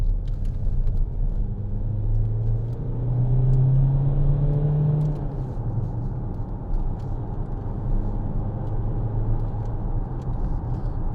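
A 2014 Vauxhall Insignia 2.0 CDTi SRi diesel hatchback accelerates on the road, heard from inside as a steady low engine rumble with road and tyre noise, the engine note swelling briefly partway through.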